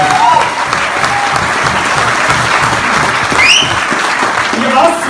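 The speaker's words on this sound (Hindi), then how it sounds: "आपकी तालियां मुझे बहुत अच्छी लगी निश्चित रूप से।" An audience at a network marketing talk claps in sustained, dense applause, with scattered voices and a few whistles mixed in.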